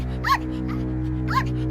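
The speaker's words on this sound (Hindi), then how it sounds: "लेकिन जब टोटो भौंकने लगा" Toto, a small dog facing a lion in a darkening forest, lets out a few short, high yelping barks spaced over a steady low droning background.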